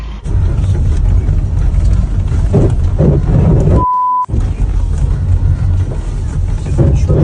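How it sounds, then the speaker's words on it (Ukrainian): A medical evacuation vehicle handed over to Ukraine's defenders drives along a road with a loud, steady engine and road rumble, broken midway by a brief tonal beep and a momentary drop in sound. "Зараз ми покажемо, якими дорогами машина буде їздити, як вона зараз вже їздить."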